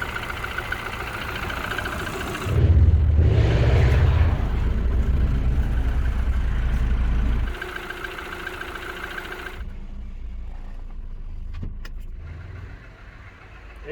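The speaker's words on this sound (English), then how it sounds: "It's not the quietest of engines, but it's fine." A Rover 25 GSi engine starts and runs loudly close by for several seconds, then drops to a softer, steady idle with faint ticks.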